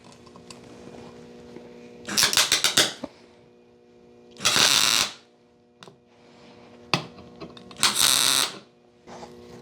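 Welding on a steel car rim being adapted to fit a bicycle, with three loud crackling bursts of about a second each, separated by quieter shop hum and small clicks.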